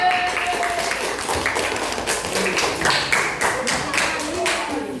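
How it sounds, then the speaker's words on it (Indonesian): A school class clapping hands together, a dense, loud burst of many overlapping claps with slightly uneven rhythm filling the room for several seconds. "Tepuk tangan."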